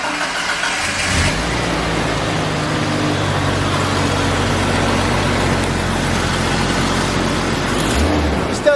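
A Jeep Comanche pickup engine cranks over, catches with a rise in loudness, then settles into a steady, close, mid-pitched idle that runs on for several seconds with no talking.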